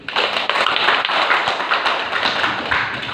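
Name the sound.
audience applause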